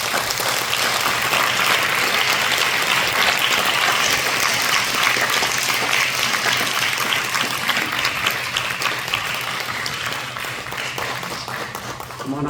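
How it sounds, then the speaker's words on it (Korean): A church congregation at a missionary ordination service applauds warmly as the college president comes forward, loud sustained clapping holding steady for the whole stretch and tapering only slightly near the end. "우리 총장님 나오실 때 뜨거운 박수로 하나님께 영광을 보내십시다."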